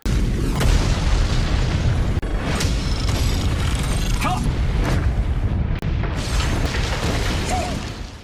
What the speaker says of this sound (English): A massive explosion rocks the area